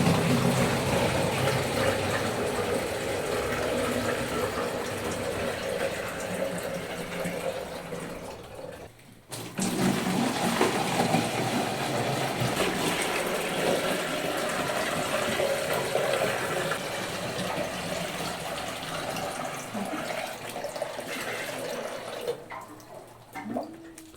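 Water rushes steadily into a container outdoors at a country house, a continuous close splashing flow lasting over twenty seconds with a brief dip midway.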